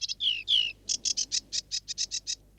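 A songbird sings clearly and close: two sweeping whistled notes open the phrase, followed by a quick, evenly spaced series of about a dozen bright chirps against a quiet background.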